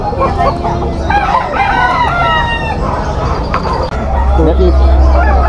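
Young roosters (stags) crow and cluck over one another at a poultry market in Malabon, loud and close, with a busy babble of people talking throughout.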